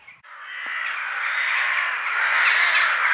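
Crows caw repeatedly and loudly around a tent at a lakeside campsite in early morning, harsh calls overlapping in a continuous chorus with no talking.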